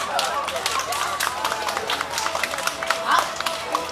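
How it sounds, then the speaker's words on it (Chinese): Audience applause at the opening of a community college's spring-term showcase: a dense, steady wash of many hands clapping together, fairly loud and continuous throughout. "请掌声鼓励"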